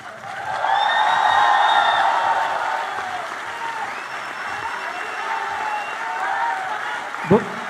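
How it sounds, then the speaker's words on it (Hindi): A festival audience on its feet claps loudly in sustained applause that peaks early and then tapers to a steady patter, with a voice speaking over it and a sharp thump near the end. "आप सब लोग खड़े होकर उन लोगों के लिए तालियां बजाएं जोर से"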